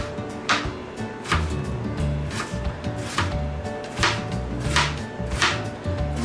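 A knife chops cabbage on a board in steady, fairly loud close strikes, several crisp cuts spaced about a second apart over a continuous low background.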